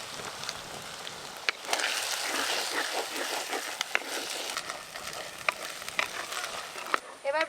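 Crab fat sizzles and fries in a hot pan with ginger, garlic and onion, a dense close crackle broken by sharp spatters and stirring clicks.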